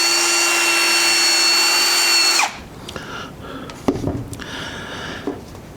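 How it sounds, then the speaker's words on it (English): A power buffer polishes a guitar's finish with swirl remover, giving a loud, steady high whine for about two seconds that cuts off abruptly, followed by faint handling clatter and scraping. "I'm going to use the swirl remover to try to give a nice even sheen across all of this"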